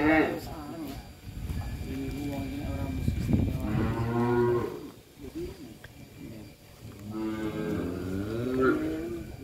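Young bulls held as feeder stock in a cattle pen at a farm in Wonogiri, Indonesia, let out several loud, drawn-out moos close by, one after another, with a little low background noise between them.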